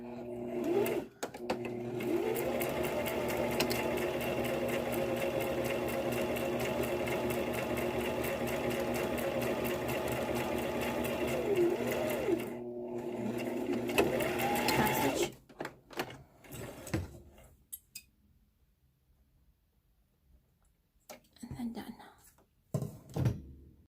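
A sewing machine stitches a fabric face mask in a long, steady run of rapid mechanical whirring, then stops, followed by a few clunks and handling sounds with a voice speaking.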